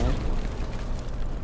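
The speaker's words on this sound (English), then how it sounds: "Grenade, Dave, grenade." A grenade goes off in the Hell Let Loose Eastern Front at Stalingrad and Kursk, a heavy low rumbling blast that starts loud and rolls on with a dull roar through the whole moment.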